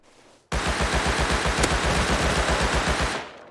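A Thompson submachine gun in Rust fires one continuous automatic burst of about two and a half seconds, with rapid, evenly spaced loud shots that start abruptly and then cut off.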